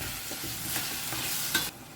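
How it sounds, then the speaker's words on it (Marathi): A spoon stirs a sweet mixture cooking in a pan, giving a steady soft sizzle with a few scraping strokes and a brief clink near the end, close and quiet, with no voices. "आता हे बरें मिक्स करून घेता."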